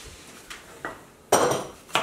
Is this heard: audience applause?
no